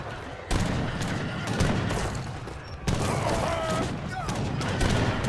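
Mortars and other siege units pound stone walls in an Age of Empires treaty tournament match, a dense run of overlapping gunfire-like blasts and booms with sharp onsets, heard under game sounds and commentary.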